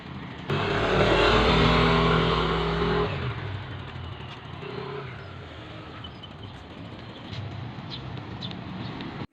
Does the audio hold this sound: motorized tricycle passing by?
yes